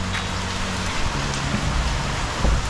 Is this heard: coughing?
no